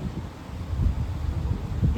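Steady outdoor wind buffeting a microphone during a morning walk, a continuous low rumble with gusts swelling and fading, with no voices.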